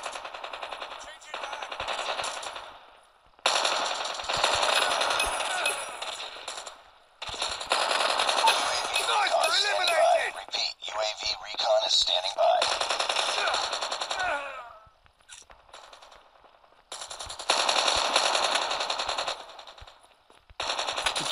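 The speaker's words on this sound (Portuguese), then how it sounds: "tentando atirar na cabeça" Automatic gunfire in Call of Duty Mobile comes in several long, loud bursts of rapid shots, broken by short quiet gaps.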